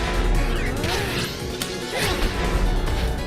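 Hammer weapon strikes in the Timespinner video game land as sharp crashing thwacks with swooshing swings, several hits in quick succession over busy game effects.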